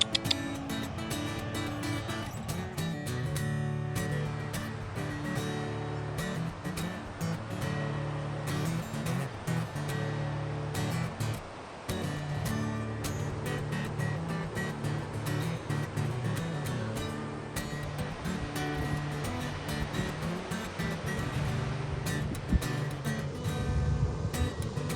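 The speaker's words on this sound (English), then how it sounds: "you can't hear what I'm saying with the wind" Strong wind buffets the microphone at a rocky gorge, a loud, constant roaring rumble with gusty fluctuations throughout.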